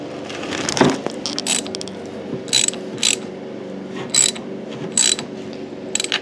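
A 13mm wrench ratchets against the top nut of a Mazda 3 rear shock clamped in a vise, giving short bursts of pawl clicking in an uneven rhythm with a metallic knock near the start, loud and close over a low hum.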